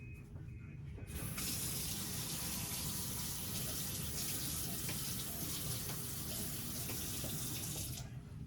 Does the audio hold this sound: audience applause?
no